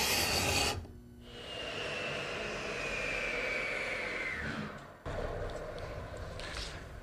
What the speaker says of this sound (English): It's a gooseneck scraper. It's perfect to fit into our cove and scrape down the wood to a nice smooth surface.